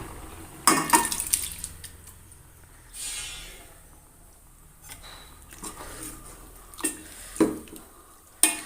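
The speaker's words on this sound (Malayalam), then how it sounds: "ഈ ചെറുപയർ ഞാൻ വേവിച്ച് എടുത്തതാണ് ഇതും കൂടി നമ്മളതിലേക്ക് ചേർത്ത് കൊടുക്കാം" Cooked green gram goes into a simmering ground-coconut mixture for a Kerala puzhukku: a few sharp plops and clinks of a spoon against the pot come in sporadic bursts over a quiet bubbling background, with no talking.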